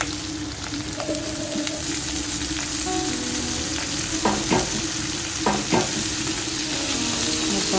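Chopped onions and chilies fry with dry prawns in a pan, a continuous crackling sizzle broken by several quick spatula scrapes and knocks toward the end, heard up close without speech.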